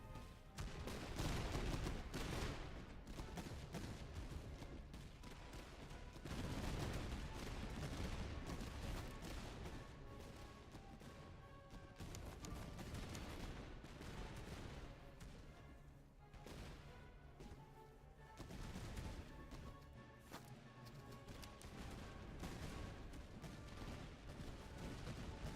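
Video game battle gunfire, a dense sustained barrage of overlapping shots and explosive crashes filling the whole stretch at a steady, fairly loud level with no pauses and no talk.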